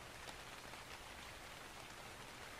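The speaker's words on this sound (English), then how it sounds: "God, it's raining so hard." Heavy rain pours down in the survival game ARK, a dense, continuous hiss of falling water with no pauses and no voices over it.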